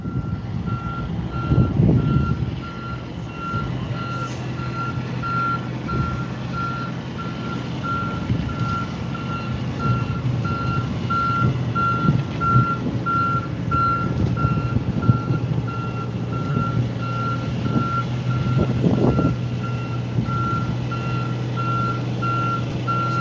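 Truck reversing beeper sounds a steady, evenly spaced series of beeps throughout while backing a 50-ton Chris Craft boat into storage, over a continuous low diesel engine rumble with occasional brake hisses.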